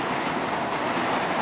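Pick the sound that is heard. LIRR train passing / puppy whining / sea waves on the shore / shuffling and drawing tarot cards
LIRR train passing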